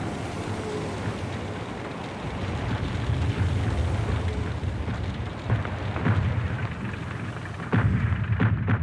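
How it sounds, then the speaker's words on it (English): A World War I artillery barrage near Verdun: continuous dull rumbling booms at a distance, with a few sharper blasts breaking through toward the end. "The artillery barrage directed their way must have been utterly terrifying."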